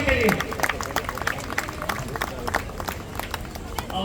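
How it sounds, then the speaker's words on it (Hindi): Audience applause at a Ramleela event, a dense, steady patter of many hands clapping throughout, with crowd voices mixed in. "एक बार जोरदार तालियां इनके लिए।"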